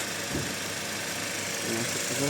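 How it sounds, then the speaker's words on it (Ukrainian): An Audi Q5 engine idles steadily with a low, even rumble under broad background noise, close by and fairly faint. "Мотор взагалі ідеально працює тут."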